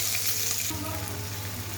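Spices with chopped onion, ginger paste and green chillies frying in a pan, giving a steady close sizzle with a brief watery rush near the start and no talk.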